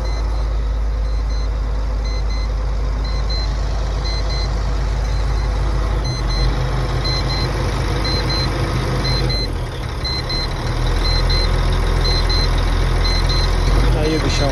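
New Holland NH380 truck from 2000 idling, a loud, steady low diesel rumble with a faint repeating beep over it, running continuously and close by throughout.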